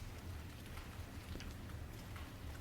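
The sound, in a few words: rain sweeping across rice paddies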